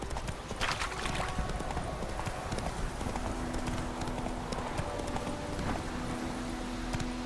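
Roach the horse trots along in The Witcher 3 game, steady clip-clop hoofbeats carrying through the whole stretch over a busy ambient bed, with a brief tonal hum entering partway.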